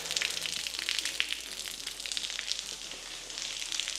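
Rainwater leaks into a Subaru's cabin, giving a steady hissing, spattering patter of water that stays fairly quiet and constant with no talking.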